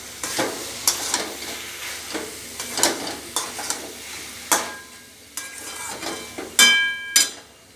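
Cabbage, peas and fried potatoes stirred in a sizzling pan, a steady fry hiss broken by repeated scraping strokes of a spatula and occasional clinks against the pan, close and fairly loud.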